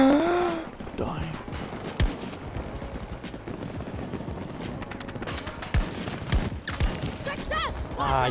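Sentry guns firing in Battlefield 2042, bursts of automatic gunfire and sharp single shots scattered through a busy game mix, some close and loud, others fainter.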